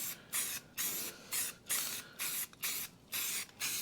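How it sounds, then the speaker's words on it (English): Spray paint hisses from an aerosol can onto an engine in about eight short, thick bursts with brief pauses between them, close but fairly quiet, with no talk. "we're just going to spray this paint on real thick"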